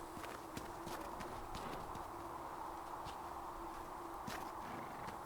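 Horse hooves clip-clop steadily in the video game Dragon Age: Inquisition, a continuous rhythmic trotting that sits close and moderately loud over a steady ambient bed, with faint bird-like calls scattered through.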